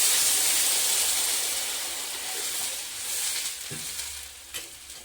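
Water poured into a pan of frying potatoes for an aloo curry sets off a loud burst of sizzling hiss that slowly settles to a softer bubbling sizzle, with a couple of brief clinks from stirring.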